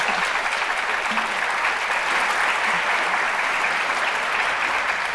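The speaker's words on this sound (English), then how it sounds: "give you a big round of applause" Auditorium audience gives a big round of applause, a dense, steady wash of many hands clapping at full strength, sustained and even throughout with no voices breaking through.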